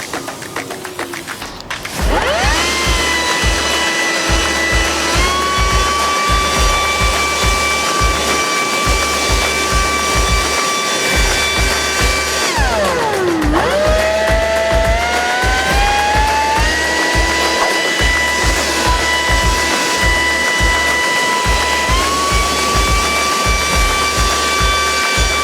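A Makita UB001GZ 40V XGT cordless blower spins up with a steady, loud whine and rushing air. The pitch steps between trigger speeds and dips once before climbing again, with a repeated low pulsing under the drone.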